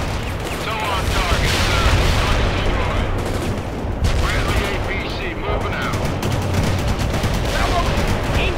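Dense, continuous gunfire with heavy bursts and booming blasts fills a World in Conflict battle, with voices talking over the constant rattle of shots.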